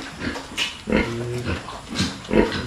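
A farm pig gives several short, throaty grunts and snorts in irregular bursts, close by and moderately loud over a rough background.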